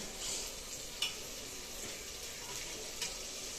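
Fenugreek leaves stirred and fried in oil, a faint, steady sizzle with two brief, light scrapes of a spoon about two seconds apart.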